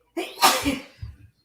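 A single loud, close sneeze bursts out, followed by a short breathy tail and a faint exhale.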